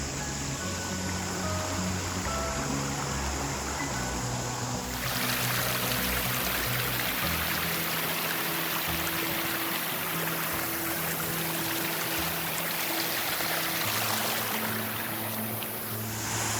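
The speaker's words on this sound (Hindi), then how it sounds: "यहाँ से बढ़िया नदी बह रही है।" A river runs high and fast after a flood in Nainital, Uttarakhand, a steady loud rushing and splashing wash that carries on without a break.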